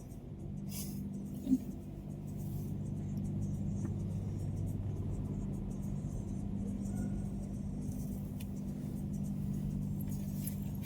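A car rolls off a ferry at Dover, giving a steady low engine rumble and road noise throughout with a brief bump early on, heard from inside the vehicle with no talk.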